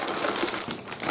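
A bag of Japanese snacks is torn open and crinkled up close, its plastic crackling in a continuous, dense rustle.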